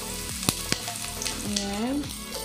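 Onions sautéing in a pan for creamy sipo, a quiet continuous sizzle punctuated by a couple of sharp utensil clicks, with faint background sounds.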